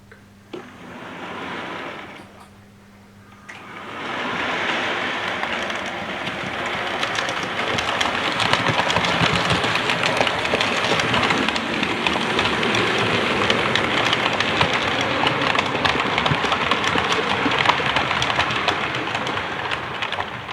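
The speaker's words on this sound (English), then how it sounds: "that's the Royal Mail train I'm slowly putting together" A model Royal Mail train runs steadily on its track, giving a continuous close rattling, whirring rumble that starts after a short quieter burst and holds an even level throughout.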